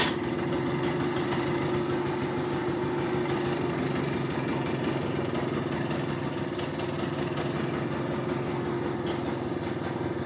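A Vespa PK 50 XL scooter's small two-stroke engine, freshly kick-started, idles with a steady low-revving putter and even hum, close by and unbroken, with no voices over it.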